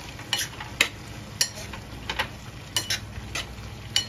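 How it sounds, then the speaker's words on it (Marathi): Potato pieces being stirred into a pan of flat-bean vegetable curry: a spoon scrapes and clinks against the pan in irregular strokes, about eight sharp hits over a faint, steady sizzle, with no voices. "2 ते बटाट्याचे तुकडे याच्यामध्ये घालते आणि चांगलं परत ढवळून घ्यायचे"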